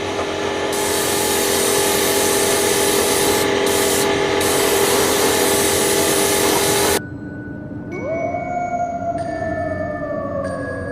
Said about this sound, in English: have your airbrush about 12 inches, 18 inches away from it